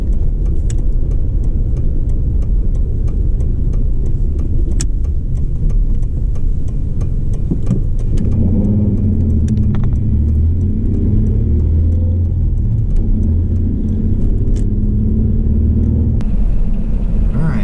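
A car drives along a mountain road toward Gatlinburg from the Townsend Y, its cabin filled with a loud steady engine and road rumble, the tone shifting slightly partway through, with no talking.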